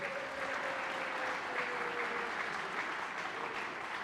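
Audience at a community kickoff event at a college hall applauding, steady sustained clapping from many hands filling the room, with a faint voice lingering underneath.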